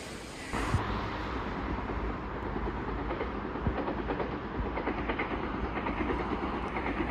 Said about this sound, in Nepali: यहाँको चाहिँ लोकल ट्रेन